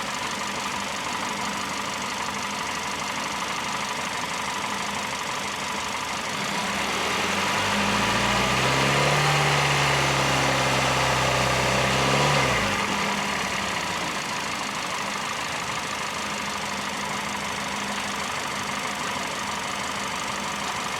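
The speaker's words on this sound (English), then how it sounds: "So I'll step on the accelerator around 2000 RPM." A 2017 Hyundai Santa Fe engine, showing a camshaft position actuator circuit fault, idles steadily, then rises to about 2000 RPM for roughly five seconds with a stronger hum before dropping back to idle.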